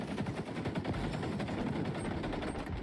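Rapid automatic AK rifle fire in a first-person shooter video game, a dense continuous burst of loud shots lasting the whole stretch with no pauses.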